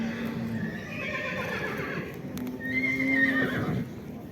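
A horse whinnies at the Karakol livestock market, a long, fairly close neigh with rising and falling pitch over a steady crowded outdoor murmur, ending in a shorter second call.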